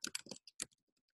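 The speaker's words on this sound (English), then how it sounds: "I'm going to type in the password here" Quick clicking keystrokes on a computer keyboard as a password is typed, a short burst of several close, crisp taps followed by a few fainter isolated clicks.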